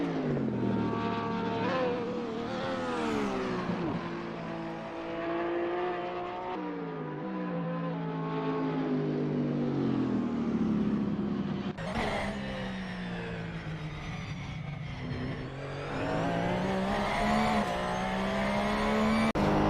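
GT3 race cars, among them a Porsche 911 GT3 R and a Ferrari 488 GT3, racing at VIR: engines rising and falling in pitch through upshifts, loud and close, with passes sweeping by over nearly twenty seconds.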